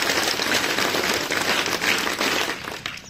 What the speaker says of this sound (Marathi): टाळ्या वाजवा एक मोठ्यांदा